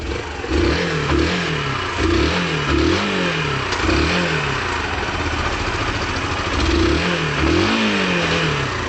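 A 2010 Yamaha YBR 125 motorcycle engine is revved repeatedly, each blip rising and falling over a steady idle, loud and close with no talk.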